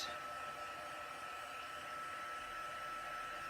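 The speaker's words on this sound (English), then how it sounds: "I'll heat up the heat tool first because it works much better when it's preheated." An embossing heat tool heats up, blowing a steady, even whoosh of air at moderate level for a few seconds, alone with no voices.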